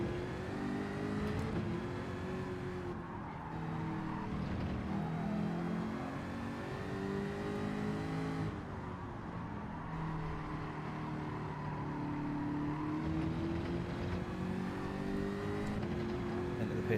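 A race car engine in Gran Turismo 7 driving into the pits, a steady droning hum with slowly rising and falling pitch, fairly faint and continuous throughout.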